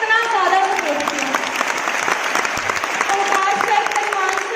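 An audience at a business success-day event in Ludhiana claps steadily and loudly throughout, a dense continuous applause with a faint voice underneath.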